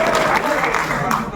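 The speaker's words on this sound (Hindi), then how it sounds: "तालियां बजा दीजिए ताकि कुछ शेर इनसे और सुनिए" Brief burst of audience applause at a mushaira poetry gathering, dense clapping from a crowd, loud and close, lasting just over a second.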